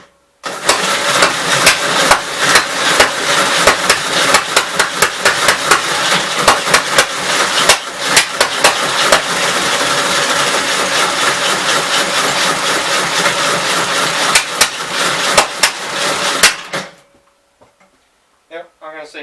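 A 1965 L8 engine with an exhaust manifold just clamped on runs loud and rough, with sharp irregular popping bangs over a low rumble, then shuts off; faint talk follows.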